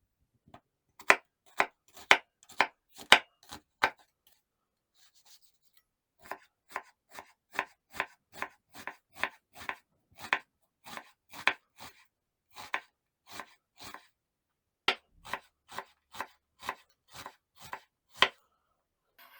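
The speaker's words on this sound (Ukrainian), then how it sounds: "Цибулю буду нарізати міленькими кубиками." Crisp, rapid knife chops on a cutting board as an onion is diced into small cubes, in quick bursts, with a brief pause partway through before the steady rhythmic chopping resumes.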